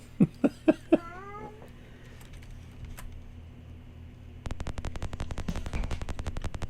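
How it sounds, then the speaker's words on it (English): A house cat trying to climb underneath a door gives three or four sharp, close meows in quick succession, followed by quiet, then a steady run of rapid clicking and tapping. "I have a cat trying to climb underneath the door."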